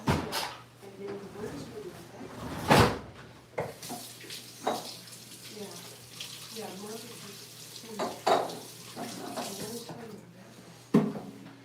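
Tap water runs and splashes in a sink during handwashing after prepping baby back ribs and chickens for a Lone Star Grillz pit, with intermittent clatters and people talking over it.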